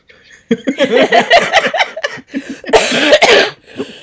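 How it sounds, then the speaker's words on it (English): A person with a cold coughs repeatedly at close range, harsh hacking bursts in two clusters separated by a brief pause, with faint breathy sounds around them. "That's why you'll hear me hacking and coughing and spitting."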